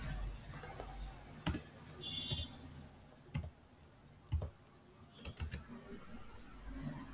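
Keys clatter on a computer keyboard in short, sparse bursts of clicks with pauses between them, close and fairly quiet.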